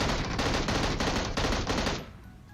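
Rapid automatic gunfire in PUBG Mobile, a loud continuous burst of shots that cuts off sharply, leaving quieter background sound.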